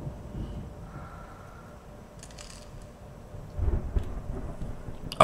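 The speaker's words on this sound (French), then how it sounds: "le sound design de l'orage est franchement bien" Thunderstorm from the Alan Wake video game: a faint rain hiss and low rumble build into a louder rolling thunder crack near the end, with a few sharp patters in between.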